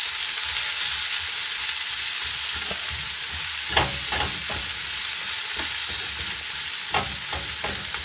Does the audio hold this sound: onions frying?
yes